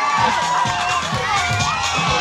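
A crowd at a bike show at NASS claps, cheers and shouts continuously, loud and dense, with a voice talking over the noise.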